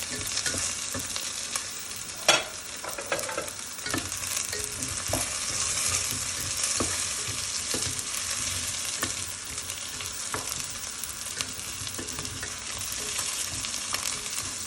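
Green chillies frying in hot oil for prawn biryani, giving a dense continuous sizzle with crackling spatters and occasional stirring scrapes, close up and steady throughout with one sharp knock early on.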